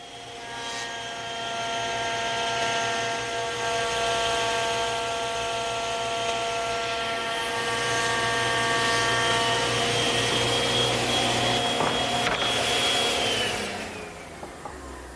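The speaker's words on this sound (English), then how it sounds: "I'm going to show you a shortcut using the thickness planer" A thickness planer hums with a steady high whine and motor roar as glued wood panels feed through, the pitch holding level for the whole pass before spinning down near the end.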